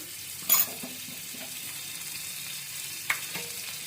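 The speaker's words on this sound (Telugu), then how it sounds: "స్టవ్ ఆన్ చేసుకొని మంచిగా ఇలాగా వెన్న వేసుకుందామండి" Butter sizzles quietly in the wells of a paniyaram pan on a stove, a soft, even hiss with two sharper clinks of a utensil against the pan.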